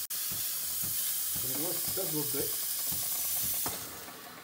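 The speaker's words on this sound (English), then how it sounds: "A lot of steam coming from the head here." A Breville espresso machine's group head hisses with a steady, even rush of steam throughout, while a person speaks briefly over it.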